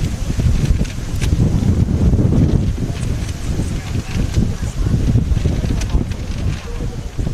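Strong gusty wind buffets the microphone at an outdoor high school softball game, a loud continuous roar and rumble with rustling bursts throughout.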